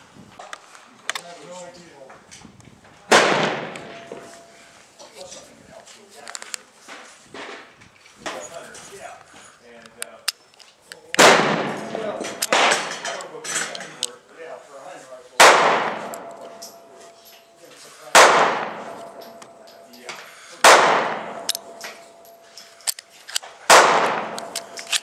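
A Grendel P10 .380 ACP pistol fired until empty: about six sharp, loud shots spaced a few seconds apart, each with a brief ring and echo, with quieter handling noise and low voices between them.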